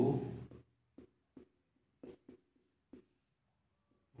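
Chalk or pen writing the word voltmeter on a board, a string of short separate scratchy strokes with pauses between them, close and fairly quiet, after a brief burst of sound at the start.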